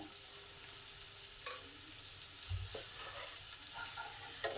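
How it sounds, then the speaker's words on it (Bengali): Onion, garlic and chilli frying with salt in a pan: an even, close hissing sizzle broken by spoon clicks and a dull knock partway through. "এই সমস্ত কিছুকে একটু ভালো করে লাল লাল করে ভেজে নেব।"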